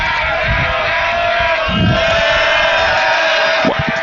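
A baseball crowd at a high school game between Pleasant Grove and Taylorsville roars loudly and continuously, a sustained wall of cheering and yelling with swelling shouts.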